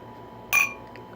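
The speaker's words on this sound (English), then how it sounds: "Loud clink. That was a good clink." A single short clink of glasses, likely wine glasses touched in a toast, rings out brightly over a quiet background.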